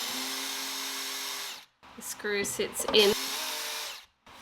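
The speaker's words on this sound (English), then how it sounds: "I'm using this bit on the drill to do a little countersink" A power drill with a countersink bit whirs close by as it bores into a wooden kitchen cabinet, starting and stopping in a couple of short bursts while someone talks.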